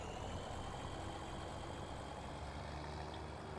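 Tractor engine in Farming Simulator running at a steady, rumbling idle, close and continuous, with no other sounds.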